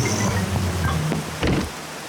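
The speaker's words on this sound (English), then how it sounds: "It's just about to rain." Rain falls in a Peppa Pig cartoon, a dense steady hiss of drops with a brief louder swell near the middle, moderately loud and alone.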